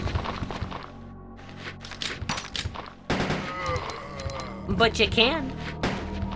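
Gunfire in Resident Evil 2 as zombies are shot, a burst of rapid shots and cracks alongside game sounds, with someone talking over much of it.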